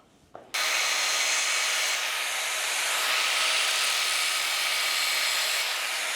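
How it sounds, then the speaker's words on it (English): A grinder works the bevel of a lawn mower blade with a continuous bright, hissing grind that begins sharply after a brief quiet start and holds steady throughout. "I'm taking and grinding that bevel, and I'm feeling underneath to feel a light burr"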